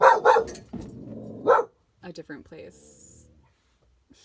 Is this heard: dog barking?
yes